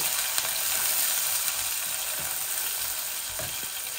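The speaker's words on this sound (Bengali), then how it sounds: "এখন আমি অনিয়ন দিয়া বিসমিল্লাহ" Onion goes into hot oil with reddened garam masala spices, frying with a steady close hiss and sizzle and a few light stirring knocks, with no talk.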